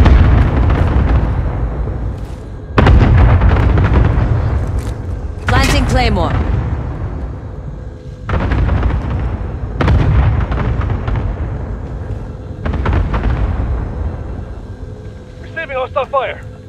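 Heavy hostile gunfire and booming explosions from a Call of Duty match, landing as loud broadband bursts every few seconds over a constant rumble, with short radio-style voice callouts between them.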